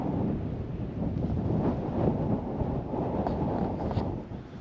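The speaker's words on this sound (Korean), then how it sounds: "지금 계속해서 바람 소리가 들어가고 있는데요." Strong wind buffets the microphone at the Çatalhöyük archaeological site in Turkey, a continuous low rumbling roar with gusty swells throughout and no voices.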